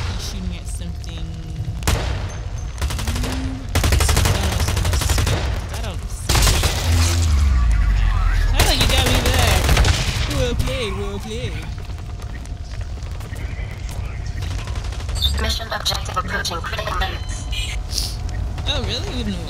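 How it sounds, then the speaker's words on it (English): Gunfire from the first-person shooter BlackLight Retribution crackles in loud, dense bursts and rapid volleys with booming impacts, rising and falling across the stretch while a voice talks over the game. "He's shooting at something."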